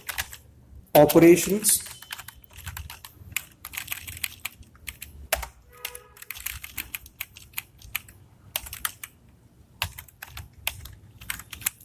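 Code being typed on a computer keyboard, irregular bursts of close key clicks with pauses, under a man's intermittent speech.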